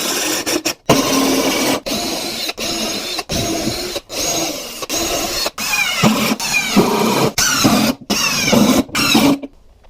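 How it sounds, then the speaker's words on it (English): A power drill drives screws through 2x4 boards, buzzing in repeated bursts of a second or so, separated by brief pauses, close and loud. "I'll just drive 2 screws through each board"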